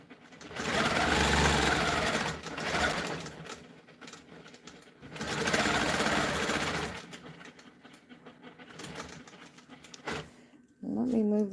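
A sewing machine stitching a continuous border on a quilt along a ruler, running in two long loud whirring bursts with pauses between, then a short start near the end.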